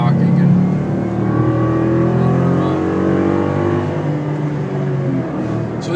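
2012 Ford Mustang GT 5.0 with a six-speed manual cruising on a highway, a steady, loud cabin drone of V8 engine and road noise with a deep, even hum throughout.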